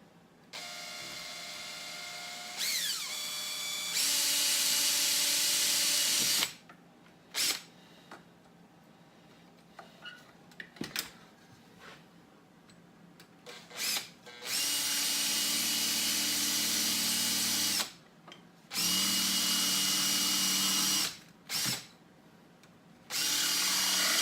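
Power drill boring a hole through a GoPro case in a garage, several loud whirring bursts of a few seconds each, separated by quiet pauses with small clicks and handling noises.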